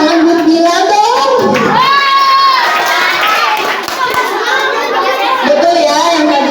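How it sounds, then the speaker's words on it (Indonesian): A classroom of children claps and chatters, with shouts and excited voices mixed into steady applause for a classmate, loud and close throughout. "Kasih tepuk tangan buat Bilal dong."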